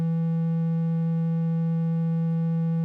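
A single sustained note from an Argon8 synthesizer using oscillator wave modulation, a steady buzzy tone with a strong fundamental and rich harmonics, held evenly without breaks for about three seconds.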